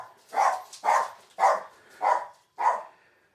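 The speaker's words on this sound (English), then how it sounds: "my dog's barking" A dog barks five times in a steady, evenly spaced series, moderately loud and fairly close, with no talk over it.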